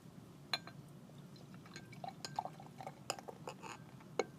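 Cream ale poured from a bottle into a glass, a quiet liquid trickle with a few faint clinks of glass scattered through, fairly soft and close with no talking.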